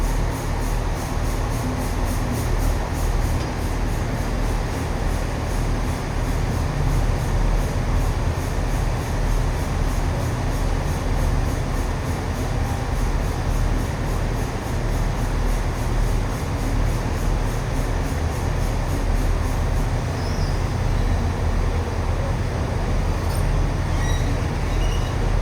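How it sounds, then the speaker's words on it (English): A Chiltern Railways Class 68 train hauling carriages toward Birmingham rumbles continuously at close range, a steady loud drone of wheels and motion with no voices. "This is our Class 68 that will be taking us to Birmingham this morning."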